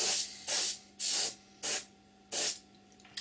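An airbrush sprays paint onto model aircraft wheels for an Academy F-16I Sufa kit in five short, sharp hissing bursts with brief silent gaps between them, close and clear.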